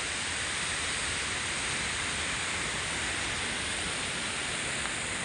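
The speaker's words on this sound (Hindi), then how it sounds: "और इधर से पानी बाहर आ रहा है इधर" Water rushes out of a stock dam in a continuous, loud, broadband roar, a steady outdoor torrent with no pauses and no voices heard over it.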